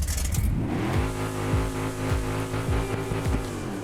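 An RC vehicle's motor revs steadily as it drives over an obstacle with some speed, its pitch sweeping up and down in repeated surges, close and loud with no talk.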